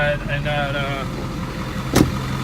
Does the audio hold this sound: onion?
no